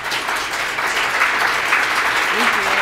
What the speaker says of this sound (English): I invite you to applaud Michelle Carlson